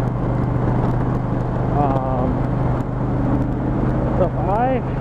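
A 2007 Kawasaki Nomad 1600 cruiser motorcycle rumbles steadily at speed, a constant low engine drone mixed with wind noise while a rider talks over it throughout.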